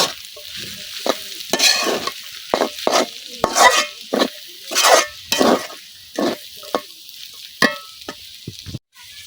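Noodles with potatoes and spices being stir-fried in a pan, a steady run of sharp scraping and stirring strokes over a low sizzle, close and fairly loud with no talking.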